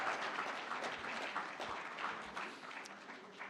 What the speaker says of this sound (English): Round of applause for Asante.